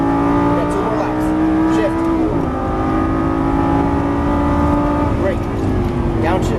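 Lamborghini Gallardo LP550-2 engine on a race track, loud and close from the cabin, holding a steady drone with pitch dips at gear changes as it accelerates, while an instructor talks over it.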